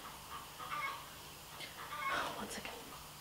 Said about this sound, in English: That chicken is really annoying.